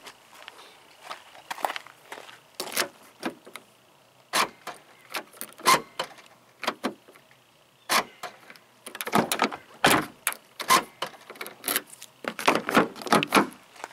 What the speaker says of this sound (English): Okay, unlock that door